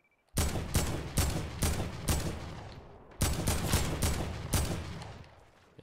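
Gunshots in a video game, a burst of five loud, evenly spaced shots, a brief pause, then another run of five or six with echoing tails, up close and without talk.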